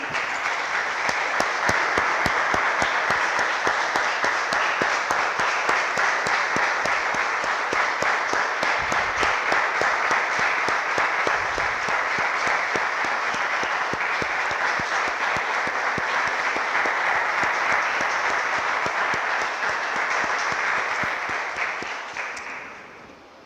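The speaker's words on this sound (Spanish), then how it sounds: "Damos un aplauso, hermanos, al Señor" A church congregation gives loud, sustained applause for over twenty seconds, dense and even throughout, before fading out at the end.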